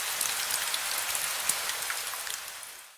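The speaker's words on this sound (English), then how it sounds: "This rain was made entirely in Unreal Engine," Rain from an Unreal Engine Niagara rain demo, a steady dense hiss of drops on a surface with scattered brighter individual splashes, continuous and fairly loud, with no voices.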